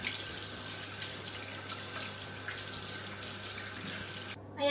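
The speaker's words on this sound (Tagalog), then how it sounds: "Hugasan na natin yung pagmumukha ko." Tap water running steadily into a sink during face washing, a constant hiss near the microphone that cuts off abruptly at the end.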